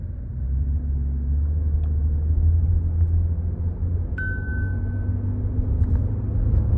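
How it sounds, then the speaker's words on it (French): A Toyota Auris Touring Sports 1.8 136 hp petrol engine gently accelerating, heard as a steady low rumble with a brief faint whine partway through and no other noises. "On accélère un petit peu, on écoute le moteur,"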